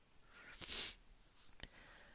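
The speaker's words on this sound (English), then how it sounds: "I do apologize for the sniffling." Someone with a cold sniffling close to the microphone, a longer breathy sniff followed by a short sharp one, alone in a quiet room.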